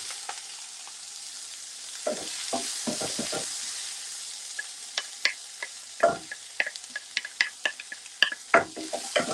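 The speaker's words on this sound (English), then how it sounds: "So saute this for about 2 to 3 minutes until the shallot and garlic, ginger start turning golden brown" Shallot, garlic, ginger and green chili saute in a pan with a steady soft sizzle, broken by several bursts of stirring scrapes and sharp clicks of a utensil against the pan, close and moderately loud, with no talking.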